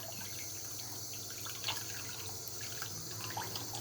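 Warm tap water runs steadily into a sink while a child washes her hands with soap, a continuous even splashing rush with a few brighter spatters and no voices.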